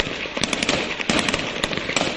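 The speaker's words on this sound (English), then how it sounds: "The sound of explosions and gunshots echoed through the city all afternoon and into the evening." Rapid crackling blasts and sharp gunshot-like bangs from a mortar and rocket attack on a compound in Kabul, dense and echoing, heard continuously at a moderate distance with no talking.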